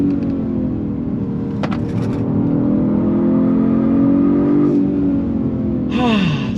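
Engine of a 2023 Genesis G70 performance sedan pulling hard in third gear, a loud steady drone with rising pitch that sweeps up toward the end as the revs climb, heard from inside the cabin.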